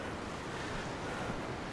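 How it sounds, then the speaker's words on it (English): Ocean surf on Kalaloch Beach in Washington washes in as a steady, broad roar mixed with wind noise, continuous and even throughout, with no one speaking. "to enjoy water sounds"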